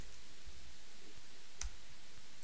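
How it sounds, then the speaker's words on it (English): One keyboard key, the Enter key on a computer, is pressed once: a single sharp, faint click in an otherwise quiet room. "Hit on your Enter key on your keyboard."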